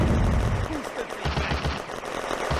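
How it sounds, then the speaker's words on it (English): Heavy machine gun fire in a World War II Eastern Front war game, dense rapid bursts of gunfire and battle noise filling the whole moment, loud and continuous. "Moving along the path through the woods to put return fire on the heavy machine gun."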